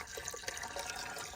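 Water pours steadily from a container into a camper van tank or vessel, making a continuous close splashing trickle that runs alone for a moment.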